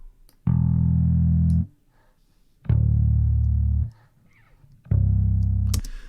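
Three sustained, buzzy bass guitar notes through a fuzz distortion effect, with a gritty, saturated edge, each held about a second, separated by short silences.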